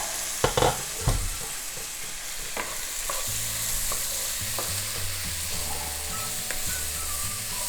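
Vegetables for a tofu scramble cook covered in a pan with a steady low sizzle, a couple of sharp knocks near the start and faint stirring or lid sounds later, with no talking.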